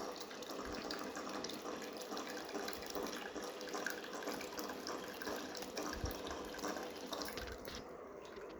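Water flows steadily in a small decorative waterfall showpiece switched on by a relay module. The trickle is continuous and fairly faint, with a few soft drips and splashes.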